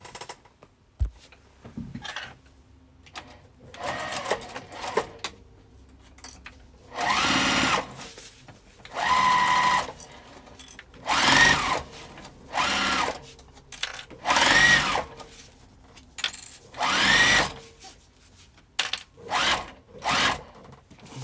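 A sewing machine stitches across the lining of a crossbody bag in repeated loud, whirring bursts of a few seconds each, separated by brief pauses and small handling clicks.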